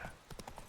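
Horse hooves clip-clopping in The Witcher 3: Blood and Wine, a quick run of four or five close, even hoofbeats on hard ground with no talk.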